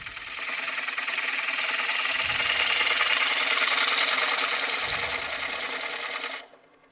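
A gouge on a Powermatic wood lathe cuts through crusty, brittle bark on a spinning bowl blank, a loud continuous rapid chattering rattle that holds steady for several seconds before abruptly stopping.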